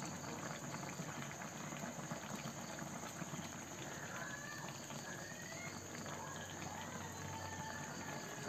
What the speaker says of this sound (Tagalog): hayaan lang natin na kumulo pa ang ating gata